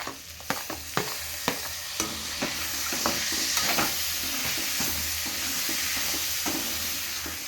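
Tomatoes frying in a pan with softened onions for puffed rice upma, several sharp spatula taps and scrapes at the start giving way to a continuous close sizzle, without talk.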